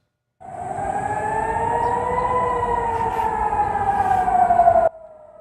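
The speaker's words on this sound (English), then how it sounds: "Those are missile defense sirens in Tel Aviv warning residents to get inside bunkers." A loud, sustained missile defense air raid siren in Tel Aviv wails steadily for several seconds with a slowly shifting pitch, then cuts off abruptly.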